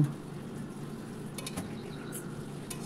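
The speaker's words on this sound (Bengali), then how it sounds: "ভেজে রাখা বড়িগুলো দিয়ে দিলাম আর উচ্ছেগুলো দিয়ে দিলাম, দিয়ে ভালো করে এবার নাড়িয়ে নেব" Fried bori and bitter gourd are stirred in a pan for a Bengali sukto, a soft steady sizzle with a few faint utensil scrapes and clinks against the pan.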